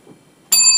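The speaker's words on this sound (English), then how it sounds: "he just cued me to hit the bell" A bright bell sound effect rings on a radio show, a single sharp strike that sustains with a clear shimmering tone after a near-silent start.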